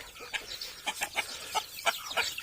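Farm chickens cluck in quick, close, repeated clucks of varying loudness, a busy run of short calls from several birds with no speech.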